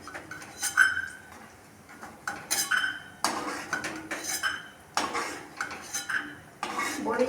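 Metal utensils clink and scrape against a pan as fried mung dal bori are lifted out, in a series of sharp, separate knocks spread over several seconds in a home kitchen.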